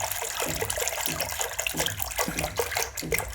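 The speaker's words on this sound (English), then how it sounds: "I am pouring some of the Mother Sparsh Baby Liquid Cleansing Liquid here because it's a lot of water" Baby cleansing liquid is poured and stirred into a bucket of warm water, giving steady close sloshing and swirling with repeated splashy strokes throughout.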